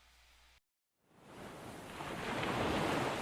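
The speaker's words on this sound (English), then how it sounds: "The sound of waves, seagulls, and the clanking of metal rigging is heard." Ocean waves wash in as a soft, broad surf hiss that begins after a brief silence and swells steadily louder, with no voices.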